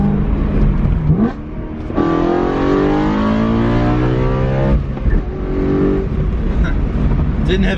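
A BMW E92 accelerates hard, its engine note climbing steadily through a long pull and then easing off. The sound is loud and close from inside the car, with brief shifts in pitch along the way.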